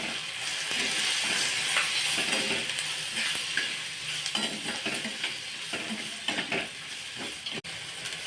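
Crumbled leftover chapati is stirred in a frying pan with salt and chili powder, a steady close sizzle and hiss broken by repeated scraping clicks of the spoon against the pan, with no talking.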